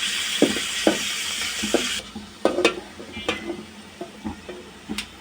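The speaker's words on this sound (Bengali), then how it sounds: "রসুনটাকে বাদামি কালার করে ভেজে নেব।" Garlic fries toward brown in a pan for chicken soup: a hissing sizzle opens, then gives way to scattered scraping and clinking strokes of a spoon stirring, close and fairly loud.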